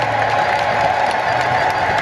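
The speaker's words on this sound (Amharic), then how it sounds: "አጨብጭቡላቸው።" A crowd at an Orthodox church feast-day gathering in Hawassa claps in sustained, even applause that fills the space loudly from start to finish.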